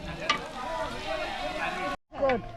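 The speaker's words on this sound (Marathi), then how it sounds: "कांदा आणि लसूण गेलं आहे तेलामध्ये छानपैकी असं परतून घेत आहेत त्या" Onion and garlic sautéing in oil in a pot over a hard-burning wood fire, a steady close sizzle with stirring scrapes, a brief gap near the end, then frying resumes.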